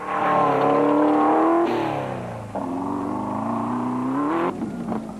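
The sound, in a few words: off-road race truck with BMW engine streaking by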